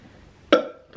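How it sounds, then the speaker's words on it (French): A single loud burp erupts halfway through, short and close, after a quiet stretch, while someone tastes snacks from a Korean food box. "est-ce que j'ai roté?"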